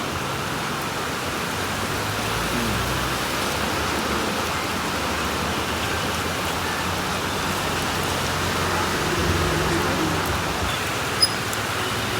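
Steady rain falls across an outdoor fish market, a constant even hiss of drops on surfaces with no voices, holding the same level throughout apart from one brief faint tick near the end.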